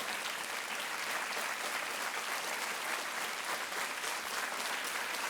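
Steady, dense applause from a large studio audience on the game show Kaun Banega Crorepati fills the whole stretch, loud and continuous with no voices standing out.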